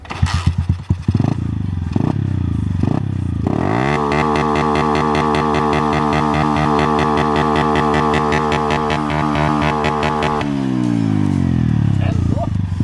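A motorcycle fitted with a Fortuna exhaust and a CDI Multscan rev limiter revs loudly up close, climbing and then holding a steady high-pitched drone against the limiter for several seconds before dropping back.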